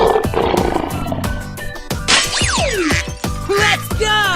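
Lion roaring in a 3D animal slide video game, a loud growling roar mixed with busy game music and sliding effects throughout.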